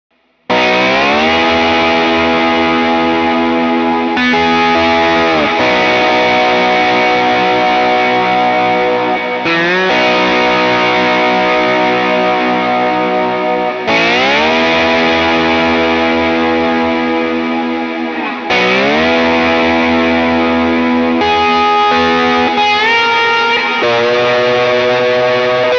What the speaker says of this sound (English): With all the effects, that section will sound like this.